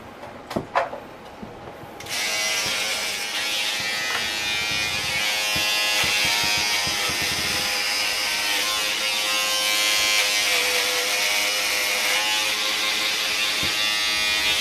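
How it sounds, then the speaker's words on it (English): Electric shaver trimming a goatee, a steady close-up electric buzz that runs unbroken for about twelve seconds after a few brief handling clicks at the start. "I'm going to shave. I'm going to go back to the goatee."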